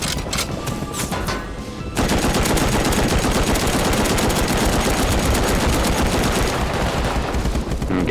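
Sustained automatic gunfire in the survival game Rust during a battle with an attack helicopter, dense rapid bursts that swell loud and continuous after a quieter opening stretch.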